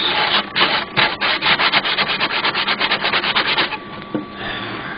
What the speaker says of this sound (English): There's a larger ridge right here I'm trying to sand out.